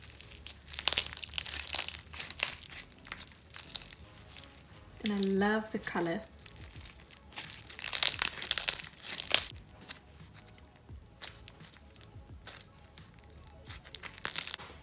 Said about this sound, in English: it's such a super crunchy slime